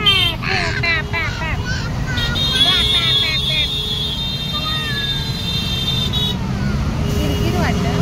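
Busy road traffic near a police ground, with a slow-moving tempo vehicle rumbling close by. Horns and whining engine tones sound over a steady roar, and voices murmur under the din.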